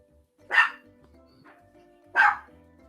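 Two sharp dog barks, a couple of seconds apart, sound from a short distance against a quiet background.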